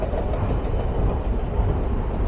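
Istanbul metro station ambience as a train runs on the tracks, a continuous broad rumbling roar with faint rhythmic clatter, loud and steady with no talking.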